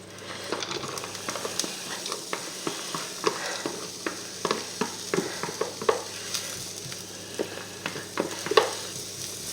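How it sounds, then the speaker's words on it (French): Onions sizzle as they brown in a pan, a soft continuous frying hiss with scattered crackles and light utensil taps, fairly quiet and with no voices. "on va mettre nos oignons à dorer."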